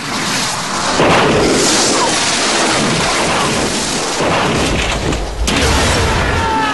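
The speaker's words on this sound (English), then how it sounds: "It really is just a piston which is fired out using the higher pressure nitrogen, and it rocketed over." A car shell is fired over by a nitrogen-powered piston cannon during a Bond film stunt, a loud sustained roaring blast with crashing noise and a sharp impact near the end.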